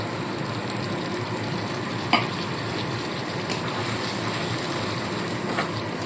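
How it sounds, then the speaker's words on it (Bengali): A spice masala with a little water is sautéed in a pan as a tangra fish curry is cooked, giving a constant bubbling sizzle, close and fairly loud, with a single sharp clink of the spatula and no talking. "মশলাটাকে খুব ভালো করে কষাতে হবে"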